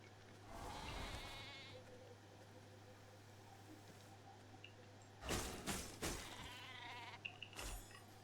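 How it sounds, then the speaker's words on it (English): A sheep in V Rising bleats a few times in short bursts over a low steady hum, with quieter clicks and rustles in between. "Now you are a sheep."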